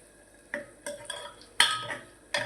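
Spoon stirring potato curry with the peels left on in a pan of oil: a few distinct scraping strokes spaced about half a second apart, with light sizzling underneath and no talking.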